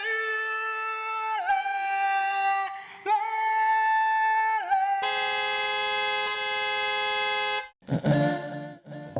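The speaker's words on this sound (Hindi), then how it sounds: "मैडम ने हॉर्न बजा के बुलाया है" A car horn blares in long, sustained tones that shift in pitch, then gives one steady extended blast, ending with a few short chaotic bursts; the sound is loud and close with no talking.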